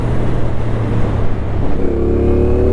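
A CF Moto 450 NK roadster engine revs loudly and close by, a throaty rumble that shifts pitch partway through under a rough, crackling texture.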